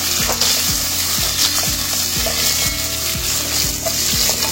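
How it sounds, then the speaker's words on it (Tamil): Whole peeled shallots sautéing in a pan, a bright steady sizzle over a low repeating mechanical hum, with occasional stirring scrapes and no voices. "வெங்காயம் வந்து நல்லா வதங்கி பொன் நிறமாக வரணும்"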